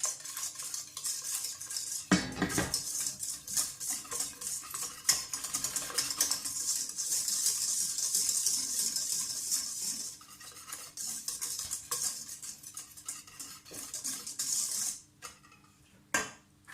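A whisk scrapes and clatters rapidly inside a stainless steel pot, a continuous metallic stirring with fast ticking strokes, close and moderately quiet, with a brief knock early on and a pause near the end.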